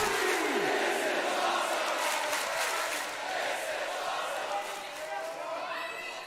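A dense, roaring arena crowd in the WWE 2K19 wrestling video game, loud and continuous with cheers and yells, a commentator's voice talking over the din.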